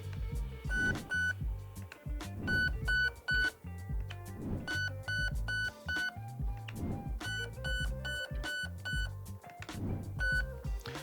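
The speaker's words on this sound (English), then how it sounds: "you'll simply click through it with your trigger and listen for the audible beeps" An airsoft rifle's Nebula II MOSFET gives a series of short electronic programming beeps as the trigger clicks through its menu, about five evenly spaced bursts, close and clear with no talking.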